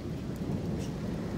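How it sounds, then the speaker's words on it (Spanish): Thunder from an approaching electric storm rumbles low and steady, a continuous distant roll with faint rain-like hiss on top and no voices. "¿sí escuchan los truenos?"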